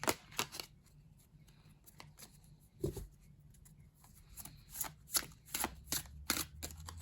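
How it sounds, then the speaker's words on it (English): Tarot cards, a Twilight of the Gods deck, being rifle shuffled at close range: a string of quick crisp riffling bursts and snaps, irregular and fairly faint, with a low hum underneath. "rifle shuffling these"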